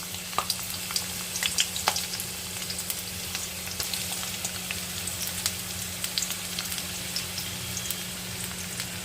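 Green chillies and chopped onion frying in hot oil, a continuous close sizzle with crackling pops throughout and no talking.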